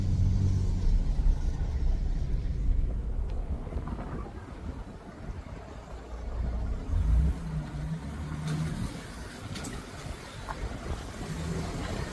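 A car accelerating on a street in Libreville, a deep engine rumble with wind buffeting the microphone, swelling and easing over several seconds.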